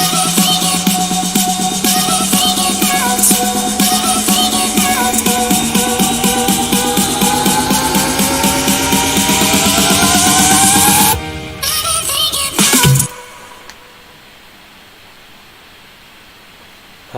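Electronic dance music build-up with a rising white-noise sweep and a rapidly repeating pulse climbing in pitch and intensity for about eleven seconds, then a brief stuttering cut and near silence, loud throughout the rise.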